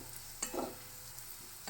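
Cumin, coriander and chaat masala are stirred in a pan: a faint, brief scrape with a soft sizzling swish under low background hiss.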